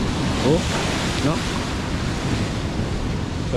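Typhoon Kristine's storm waves wash over the Dipolog boulevard in a continuous loud roar of surf and gusting wind, while a faint voice briefly calls out in the background.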